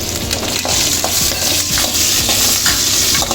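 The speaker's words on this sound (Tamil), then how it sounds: "சேர்த்து நல்லா வதக்கி விடணும்." Curry leaves and green chillies sauté loudly in hot oil in a kadai, with a steady dense sizzle and spatula scrapes and clinks against the pan throughout.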